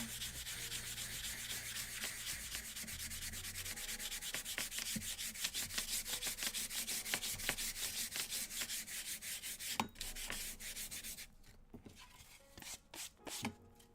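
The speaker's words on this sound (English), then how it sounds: "I try to sand it away." Wood is sanded by hand on a small reading nook project, rapid rhythmic back-and-forth rubbing strokes that run steadily, then break into shorter, sparser passes near the end.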